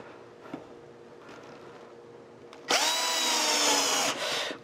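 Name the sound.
power drill driving screws into plywood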